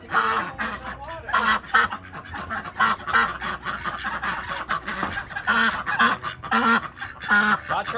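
A duck stuck in an empty pond gives repeated loud, nasal honking quacks in an irregular string, close by and continuous.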